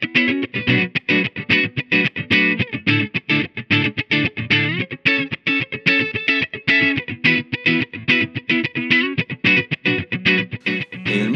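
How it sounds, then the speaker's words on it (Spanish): Electric guitar played through an LHC Mini Verb prototype amplifier, a small tube amp built on a Black Reverb chassis. Busy, steady picked chords and notes with a driven, effects-coloured tone, loud and continuous, with no talking. "Este amplificador es un prototipo que, si bien dice Black Reverb, es el nuevo amplificador que se va a llamar Mini Verb."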